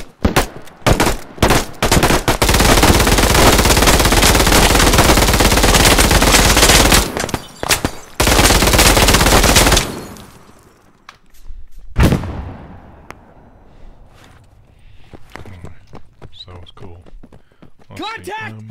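Gunfire in a military shooter video game: long dense bursts of automatic fire, loud and close, then scattered single shots and quieter action with shouted voices.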